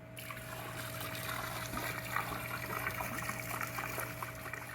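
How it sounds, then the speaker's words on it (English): A jug of muriatic acid poured into swimming pool water makes a continuous gurgling trickle and splash that runs steadily the whole time over a low, constant pump hum. "put in 1 jug of muriatic acid"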